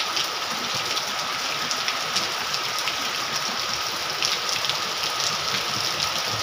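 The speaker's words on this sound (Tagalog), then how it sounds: "puro ulan lang" Heavy typhoon rain pours down in a dense, continuous hiss with scattered louder drops striking nearby surfaces, steady and unbroken, with no talking.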